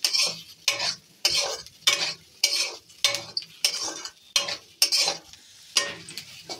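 Semolina being stirred and fried in a pan with a metal spoon, in about a dozen sharp, regular scraping strokes and sizzling bursts, loud and close with no talk.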